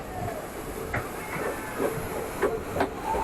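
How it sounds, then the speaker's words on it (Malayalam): A train travels through forest from Madgaon toward Castle Rock in Karnataka, with a steady rumbling hiss of the moving carriages and faint, irregular rail clicks and squeals. "ഇന്ന് ഒരു അടിപൊളി ട്രെയിൻ യാത്രയാണ്."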